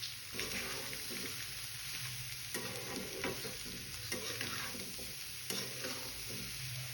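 Small chopped bottle gourd pieces fry in a pan for a bottle gourd tomato curry, a steady close sizzle broken by repeated scraping stirs, with no voices.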